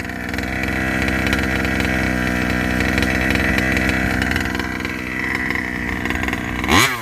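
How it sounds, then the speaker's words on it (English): A 5th scale RC car's small gas engine holds high revs with a steady, loud buzzing drone that flutters as if bouncing off a slow rev limiter, then drops off sharply near the end, with no talking. "it almost sounds like it's got a real slow rev limiter. You can hear it fluttering."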